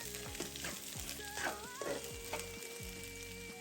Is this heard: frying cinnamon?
yes